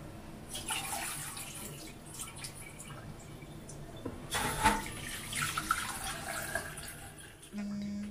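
Rice for nasi liwet is washed by hand in water, giving steady splashing, trickling and dripping with louder sloshing bursts partway through, heard close in a kitchen.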